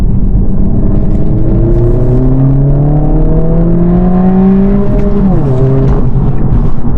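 A 2025 Honda Civic Si climbing a hill, its engine loud and close, revving steadily upward in pitch through the gears with a brief dip at a shift before rising again, no voices.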